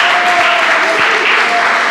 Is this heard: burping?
no